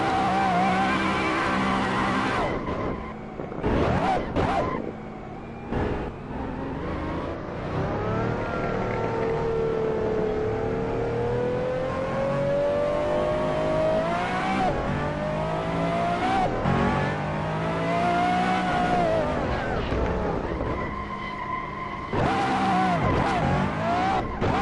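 A race car in the Assetto Corsa racing game revs and accelerates while warming its tires, with a sustained engine drone rising and falling in pitch, broken by brief gaps and skidding bursts near the start and end.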